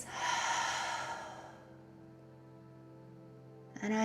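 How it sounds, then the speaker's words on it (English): A slow, deep exhale during guided meditation breathing, a soft breathy release that fades into near silence before a faint sound returns at the end. "Take another deep breath now"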